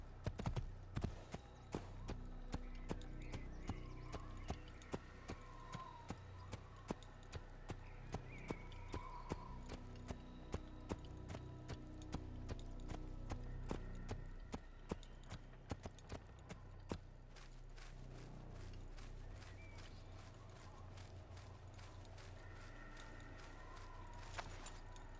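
Horse hooves clip-clop steadily in Assassin's Creed, a fast even rhythm of sharp close hoofbeats throughout at low overall volume.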